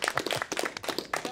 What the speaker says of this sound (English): You can applaud for Nick,